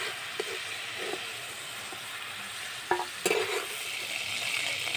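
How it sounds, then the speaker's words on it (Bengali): Chicken frying in a pan without oil, a steady close sizzle with occasional scrape and clatter of a utensil stirring the pieces. "চিকেনটা আমি একটু ভাজা ভাজা করে নেব।"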